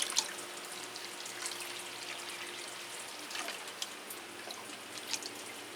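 Water flushed through a potted orchid, a quiet, steady trickling wash with scattered drips and small splashes, close and faint.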